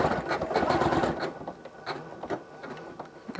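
Sewing machine running fast while stitching decorative quilt stitches, a busy rhythmic whirring and clatter that slows and thins out toward the end, close and fairly loud.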